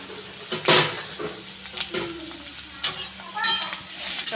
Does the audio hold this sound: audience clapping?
no